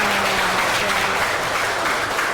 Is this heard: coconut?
no